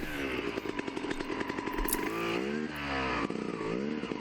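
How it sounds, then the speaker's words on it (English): Dirt bike engine at a hare scramble trail race revs hard and continuously while the bike is wrestled up out of a steep hole, its pitch rising and falling through repeated throttle blips, loud and close with no talking. "this is steep and I'm having a hard time getting the bike out of this hole"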